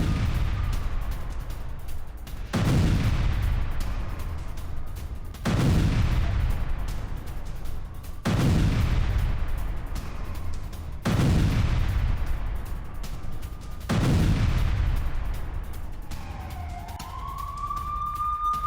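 Heavy blasts from Israeli bombardment of Hezbollah positions in war footage, six booming impacts in a steady rhythm each trailing off into rumble, with a rising siren-like whine near the end.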